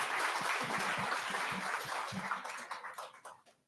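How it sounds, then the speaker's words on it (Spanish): Audience clapping at a talk, a dense steady wash of applause that thins out toward the end. "Un aplauso, por favor."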